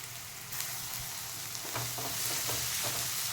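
Onions frying in a pan, a steady close sizzle with a few soft stirring scrapes, no voices.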